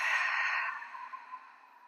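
A long, deep exhale pushed out through the mouth during a relaxing yoga breathing exercise, strong at first and then tapering into a softer airy trail, close and alone with no talking.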